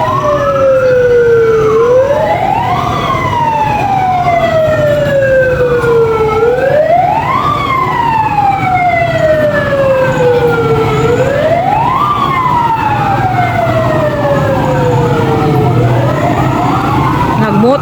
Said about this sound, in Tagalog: Nag-motorcade ang mga bumbero